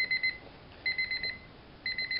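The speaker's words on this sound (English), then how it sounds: "So the bells are just for decoration, and it's a beep alarm." Small Paddington Bear alarm clock beeping, its bells only decorative: repeated groups of rapid, piercing electronic beeps separated by short pauses, loud and near, with no voices.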